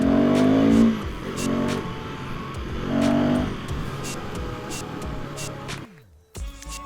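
A KTM Duke 390 motorcycle's rear tire spins with rear ABS switched off, giving a loud, rough engine roar with rising revs and surging swells that cut off abruptly near the end.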